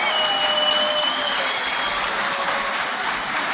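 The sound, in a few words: audience applause at a poetry gathering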